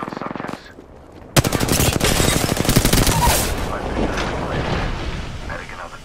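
Loud, rapid automatic gunfire in the shooter game Apex Legends, a dense burst of shots from about a second in, followed by booming blasts and a rumbling tail.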